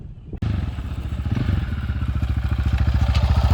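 Honda XR650R dirt bike starting up after brief quiet, then a loud close single-cylinder thump with a fast, even pulsing beat that holds steady and builds slightly.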